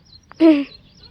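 A single short, loud peacock cry rings out once near farm fields, a brief nasal wail between quiet moments.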